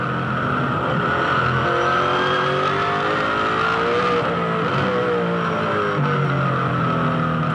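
Onboard a V8 Supercar racing at the 2007 Darwin Triple Crown, the engine roars loud and constant inside the cockpit, its pitch rising and falling through gear changes with no break.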